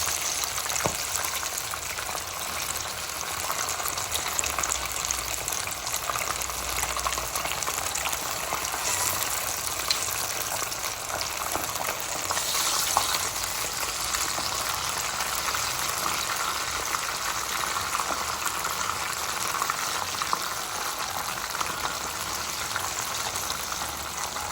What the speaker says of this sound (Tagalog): So pag mainit ng mantika, pwede na tayo magluto ng chicken.